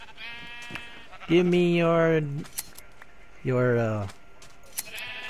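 Sheep in Minecraft give two loud, close, wavering bleats with a pause between them, over quiet game ambience and a few brief spoken words.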